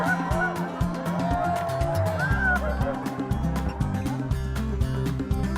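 Fowl at a village mud-catching contest in Bali, a busy chorus of repeated honking, quacking calls, near and loud, with splashing and crowd noise under it.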